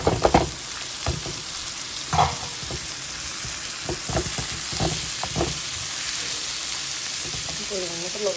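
Bottle gourd peels frying with onion and turmeric in a pan, a steady loud sizzle with occasional stirring scrapes and clatter throughout, close and continuous.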